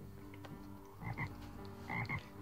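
Frog croaks ring out in two close bursts with a short repeated pattern, fairly loud against a quiet background, no voices present.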